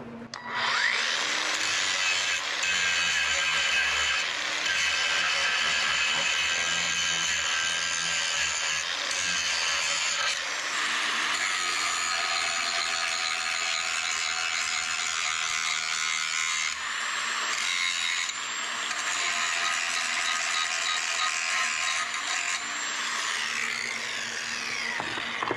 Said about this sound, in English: All right, grind it down again.